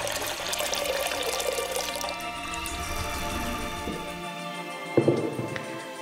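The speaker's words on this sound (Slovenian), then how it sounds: "onda dodajemo vodu." Water runs from a tap into a pot of thick strained juice on a stove, a continuous splashing pour that changes pitch as it fills, then stops with a brief clunk and drips.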